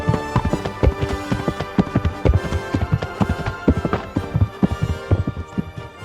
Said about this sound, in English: Dang, that base boosted horse steps.